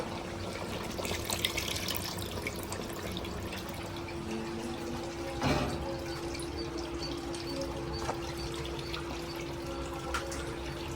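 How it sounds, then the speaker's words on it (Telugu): Tamarind juice is poured into a fish curry (chepala pulusu) cooking in a pot, giving a continuous watery pour and trickle with faint clinks. One brief louder splash comes midway, with no speech. "నేనైతే చింతపండు రసం తీసుకున్నాను ఇప్పుడైతే ఇందులో వేసేసుకుంటున్నాను"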